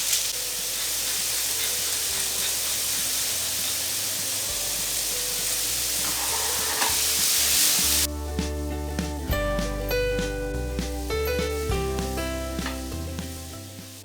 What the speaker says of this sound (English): That's what you want. You want good sizzle.